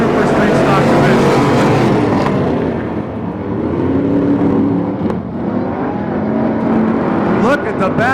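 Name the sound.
stock cars racing down the back straightaway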